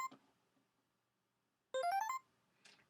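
A short, dry synthesizer arpeggio of quick rising bright notes, alone in near silence, with a few faint clicks around it.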